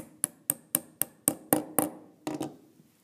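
Pliers' hammer end tapping a small axle down into a wheel hole: about nine sharp, close metallic taps in a steady rhythm, the last few heavier and ringing slightly longer, with no talking.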